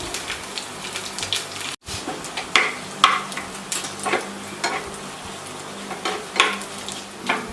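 Onions and chilies fry in oil for tempering an Angamaly-style mango curry, a close crackling sizzle broken by sharp pops and the clatter of stirring.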